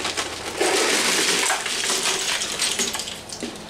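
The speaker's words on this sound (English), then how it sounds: "we're going to top it with some ice" Ice cubes tumble and crackle into a shallow tray of cold water holding smoked pork chops, a loud, busy clatter and splash lasting a few seconds with no talking.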